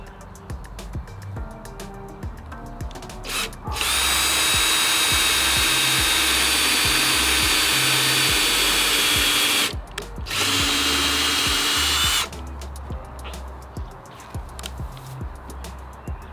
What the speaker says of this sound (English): that's where we're going to pre-drill